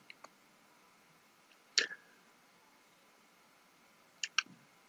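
A few sharp computer mouse clicks sound close and crisp in a quiet room: two faint ticks at the start, a louder click near two seconds, then a quick pair of clicks toward the end.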